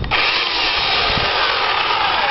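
A cheap $79 15-amp electric chainsaw made in China runs at full speed, giving a loud, continuous high-pitched whine with a slight rasp from start to finish and no voices.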